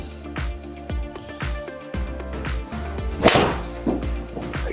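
A hollow-back mid-handicap forged golf iron strikes a ball with one sharp, crisp click, set against a steady background of music-like tones.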